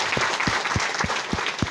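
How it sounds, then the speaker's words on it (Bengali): A crowd at a herbal food company event bursts into loud, dense applause that holds steady throughout, with sharp individual claps popping out close by. "তার মানে এর উপরে আর জোরে করে তালি নাই"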